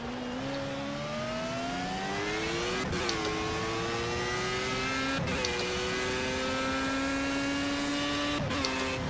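A race car engine in the Project CARS video game drones steadily at mid revs, rising slowly in pitch with brief dips at regular shift points, a continuous close engine tone with no speech.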